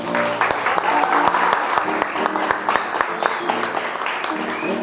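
Applause breaks out for a presenter named Antônio at a free music workshop, dense sustained clapping from an audience with scattered sharper claps throughout.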